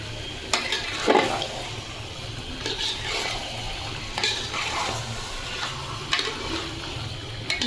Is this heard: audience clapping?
no